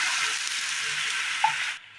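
Water splashing into a hot pan just used for roasting coconut, giving a steady loud sizzling hiss that cuts off abruptly near the end.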